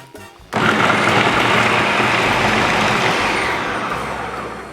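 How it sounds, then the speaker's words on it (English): Food processor blending roughly cut vegetables for a vegan lentil and chestnut soup, starting abruptly after a brief quiet moment into a loud, steady churning roar that eases slightly toward the end. "now we're just throwing them into the food processor. And we're going to blend these up"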